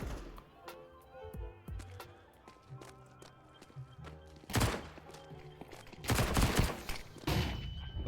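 Gunfire in a shooter video game: rapid bursts of shots and clattering impacts, loudest in two dense volleys near the end, layered over game music and effects.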